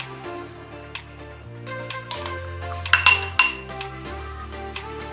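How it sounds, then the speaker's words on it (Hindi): Spoon clinking against a glass or metal bowl while apricots are mixed into a sweet fruit chaat with chopped murabba and chaat masala, a few bright taps and clinks over steady background music. "अब हम इसको अच्छी तरह से मिक्स कर लेंगे"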